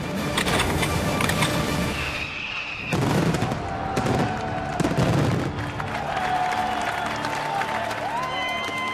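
Fireworks bursting at a professional pyrotechnic display show, heard as dense crackling and booming volleys that continue almost throughout, with cheering crowd noise and applause mixed in and a brief lull near the start.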